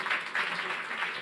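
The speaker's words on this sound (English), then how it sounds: "Please give a round of applause." Brief burst of audience applause at a launch event, a short wash of clapping that swells and fades within a second.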